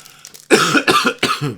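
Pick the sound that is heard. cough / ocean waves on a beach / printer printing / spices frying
cough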